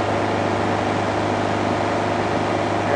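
Steady, loud drone of an Onex light aircraft engine held at cruise power near 3100 RPM, with a constant low hum and even broadband roar that does not change through the whole stretch.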